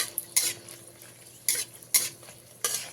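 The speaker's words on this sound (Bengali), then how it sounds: "তেলটা গরম হয়ে গেলে দিয়ে দিচ্ছি আট দশটা শুকনো লঙ্কা শুকনো লঙ্কাগুলোকে হালকা ভাজা ভাজা করে নিতে হবে" Dry red chillies fry in hot mustard oil in a wok while being stirred. Four or five sharp scraping strokes break up a faint background crackle, all close by and with no voices.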